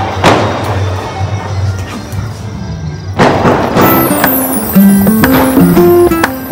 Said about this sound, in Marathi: तुम्हाला आवाज येत असेल फटाक्यांचा.